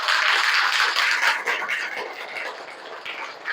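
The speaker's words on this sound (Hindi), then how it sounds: "सबसे पहले इसके लिए एक बार ताली बजा दीजिए सब बच्चा" A class of schoolchildren at a Bihar school clapping together for a classmate who has just told a story: a dense, bright patter of small hands that stays steady and then gradually thins and softens.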